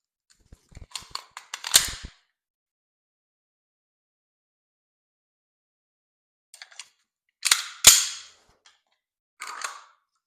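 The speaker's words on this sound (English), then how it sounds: "I actually should probably reload." Pistol being reloaded during dry fire practice, with sharp metallic clicks and clacks of magazine and slide handling in two clusters, close and clear amid silence.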